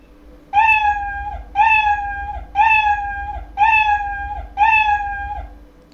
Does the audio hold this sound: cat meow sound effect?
yes